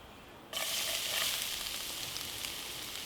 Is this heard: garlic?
yes